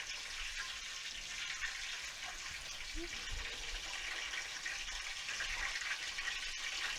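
Frybread dough frying in hot oil gives a steady, moderately quiet sizzle with continuous crackling throughout, plus a few faint low bumps in the background.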